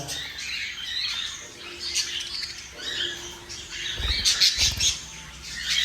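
Parakeets and budgies in a breeding flight cage chirp and squawk in busy, overlapping bursts, with occasional wing flutters and a scuffle near the end, fairly close and without talk.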